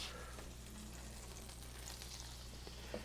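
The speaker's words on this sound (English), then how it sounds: "Now I got my butter coming up to heat, so let's get these guys in there." Potato pancakes with feta and bacon fry in hot butter in a pan, a faint, steady sizzle over a low hum with a few soft ticks and crackles.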